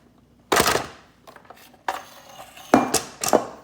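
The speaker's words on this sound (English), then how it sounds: "we're going to mix in 2 cups of grated carrots" A spatula folds grated carrots into carrot cake batter, heard as a few scraping, knocking strokes against a bowl in separate bursts, close and clear with no voice.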